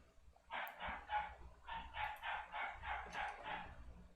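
A dog barks repeatedly in a steady run of about ten barks, fairly muffled and distant, with no talking.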